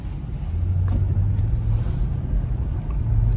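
A Mercedes SL500 R230 fitted with coilovers drives and accelerates, giving a close, steady low engine rumble with a droning tone that rises slightly in pitch.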